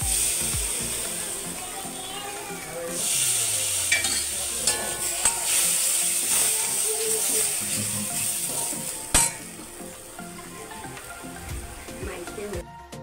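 Mutton cooking with spoonfuls of dry masala and a ground onion-coconut paste, a constant sizzle with intermittent stirring scrapes and a few sharper knocks of the spoon on the pan, close, with faint talk at times.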